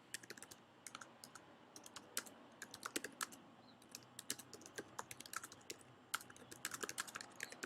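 Fast typing on a computer keyboard, a quiet, close, irregular patter of key clicks with short pauses between bursts, no talking.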